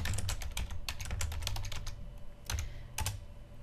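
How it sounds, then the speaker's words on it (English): Fingers type on a computer keyboard in quick, uneven bursts of clicking keys, with a short pause before a few final keystrokes. "I can type directly into the document."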